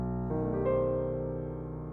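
A B dominant fully altered chord with flat 9, sharp 9, flat 5 and sharp 5 sounds as a sustained keyboard voicing, with notes entering in quick succession and then ringing steadily, with no talking.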